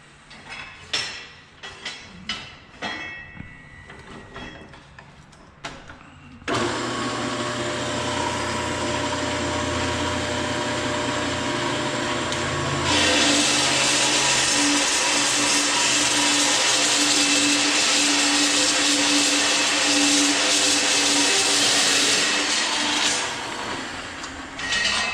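A machine cuts rebar for concrete footings, starting after a few sharp metallic clanks and running as a loud, continuous grinding whine that grows harsher partway through and keeps going to the end.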